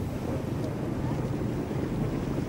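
Wind gusting steadily around a more than 100-year-old rebuilt sailing ship racing in a regatta on the Baltic coast, a continuous broadband rush of wind and water with no speech.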